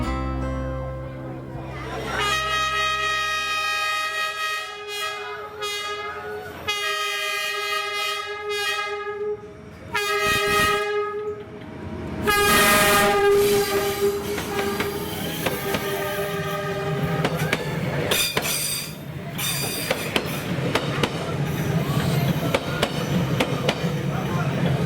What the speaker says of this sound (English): the train comes back the other way.